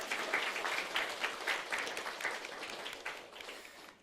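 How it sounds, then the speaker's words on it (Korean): A church congregation applauds during a Sunday service, sustained dense clapping at moderate level that continues for several seconds before tapering off at the end. "박수 한번 쳐주세요."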